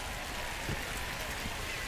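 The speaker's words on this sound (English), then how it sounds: "the way this rain is coming down" Rain pouring down during a baseball game, a dense steady hiss of drops on surfaces filling the whole stretch with a couple of faint soft thumps.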